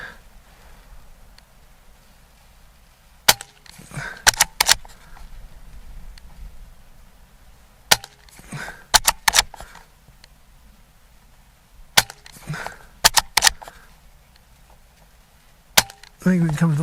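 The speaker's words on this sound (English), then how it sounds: "Take another shot." Gamo Arrow .177 air rifle firing Red Fire pellets, several sharp close cracks spaced a few seconds apart, each followed by a quick clatter of handling, over a low steady hum with brief talk between shots.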